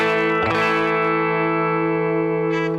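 Electric guitar played through a NUX Mighty Plug headphone amp modeler set to a Deluxe Reverb amp model, a single loud gritty sustained chord with a pick attack, reverb and slight distortion, ringing out alone without talk.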